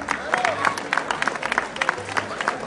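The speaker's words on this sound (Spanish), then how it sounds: "Vamos a aplaudir, gente." Audience applause at a Costa Rican vanilla event's prize-giving, with scattered claps and crowd chatter mixed in, moderately close and uneven.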